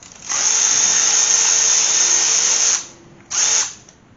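Power tool driving bolts into an engine block: a loud, steady whirring run of about two and a half seconds, then a short second burst, close and alone without talk.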